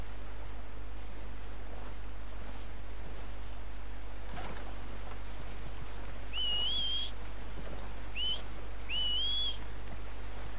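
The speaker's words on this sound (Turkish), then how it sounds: "Atını çağırmak için ıslık çalayım." Whistling to call a horse in the Red Dead Redemption 2 video game, a few short rising two-tone whistles over a steady low background hum.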